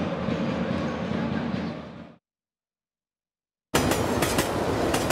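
Train of Lithuanian Railways rolling along the rails with rhythmic clickety-clack, loud and close, cutting to silence midway before the rattling rail noise resumes abruptly.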